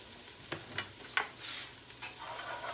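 Mulligatawny soup is stirred in a pot. A spoon knocks and scrapes faintly a few times over a soft bubbling sizzle, quiet and close, with no talk.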